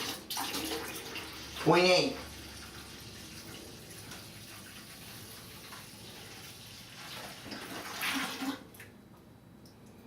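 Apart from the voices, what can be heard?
water poured into a toilet tank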